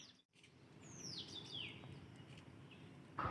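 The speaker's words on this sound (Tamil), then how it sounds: "காலையிலே பாருங்கள் அந்த குருவி கத்துற சத்தமும் சேர்த்து தான் வந்து நான் ரெக்கார்ட் பண்ணியிருக்கேன்" Sparrows chirp and tweet in quick, thin morning calls over a soft background hum, a few calls close together.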